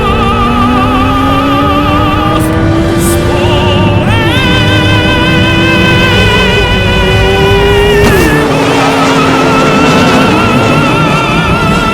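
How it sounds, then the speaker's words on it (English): A turbocharged Suzuki Hayabusa motorcycle engine builds boost at close range, a loud, continuous drone with rising tones that climb in steps, then briefly dip and climb again. "We will spool with boost, spooling boost"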